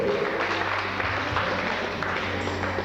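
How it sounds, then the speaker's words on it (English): Applause from an audience at a debut celebration, a continuous bed of clapping with a low hum running beneath it. "Round of applause for January."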